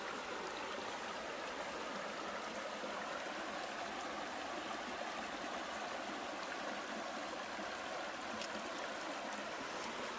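Creek water rushes steadily while a gold pan holding black sand and quartz gravel is rinsed in a Pennsylvania stream, a constant close hiss and trickle with no talk.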